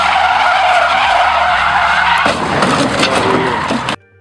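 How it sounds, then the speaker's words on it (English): A speeding car skids with a loud, sustained tire screech and roar, then a rough grinding scrape as it drags forward, before cutting off abruptly near the end. "collides with an obstacle while skidding, resulting in a collision while being dragged forward."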